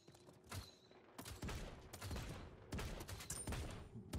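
Rapid bursts of gunfire in the battle royale video game Realm Royale, several loud volleys of shots separated by short gaps, close and dominant with no talk.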